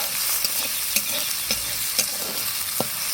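Onion, cumin and bay leaf fry in a pan for a chicken and potato curry, with a loud steady sizzle and several sharp spoon taps and stirring scrapes.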